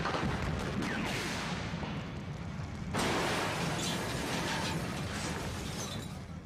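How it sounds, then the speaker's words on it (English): Large cable car explosion effect staged on a cleared street for an action film. It sounds as a dense, roaring blast with crackling debris, and a second sharp burst about halfway through, loud and sustained throughout. "After successfully completing the cable car explosion"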